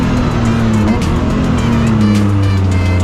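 BMW race cars in a club race on a circuit, sideways out of a corner, with loud close engine roar, shifting pitch and tire squeal, steady and intense throughout, with no talking.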